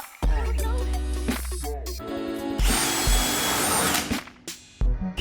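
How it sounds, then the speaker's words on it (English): A power drill whirs in loud bursts on a camper's panels, revving up and winding down, with clunks and rattles of metal between runs. "So more punching and more drilling"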